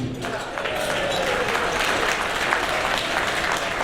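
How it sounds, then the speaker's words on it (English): A crowd claps for dancers after a cultural dance performance, a brief, steady burst of dense applause filling the whole moment at moderate loudness. "I think they all deserve a huge round of another applause."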